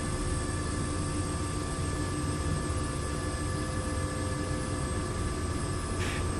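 In Microsoft Flight Simulator 2024, a Robinson R66 helicopter's turbine engine throttles up and runs with a steady, dense whine and rotor roar that stays loud and constant throughout.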